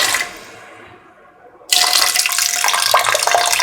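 Coconut milk is poured into a pan, a steady liquid gush that thins out, pauses briefly, then resumes as a loud continuous splashing stream, close up with no talk.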